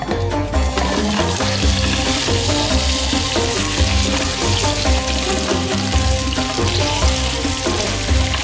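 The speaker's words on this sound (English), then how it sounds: "We're gonna shallow fry the paneer to get it nice and golden on all sides." Paneer shallow frying in a thin layer of hot oil in a pan, a steady dense sizzle with crackle running throughout, close and loud, with no voices.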